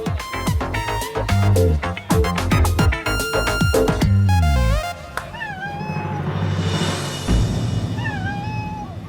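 A cat meows several times in a drama scene, with rising and falling wails standing out over loud dramatic background music and swelling effects.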